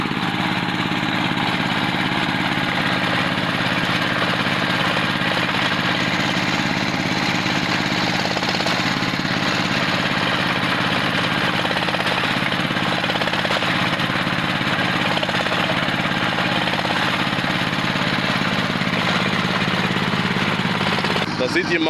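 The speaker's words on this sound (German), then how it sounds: "Und hier wird gebohrt." A loud engine-driven drill boring a water well in Gambia hammers and grinds continuously, a steady engine drone underneath, with no break throughout.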